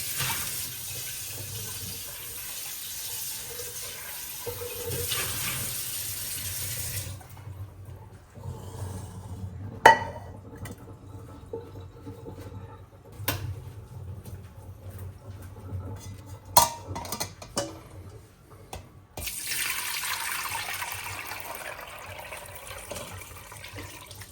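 Tap water runs loudly into a kitchen sink while a container is rinsed during sorrel drink preparation, with a gap in the middle filled by scattered clinks of dishes before the water starts again.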